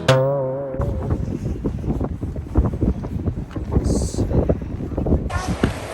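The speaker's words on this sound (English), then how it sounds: "It's very windy" Steady buffeting wind noise roars across the microphone throughout at a San Francisco beach, with a brief whistling tone at the start and a hiss near the end.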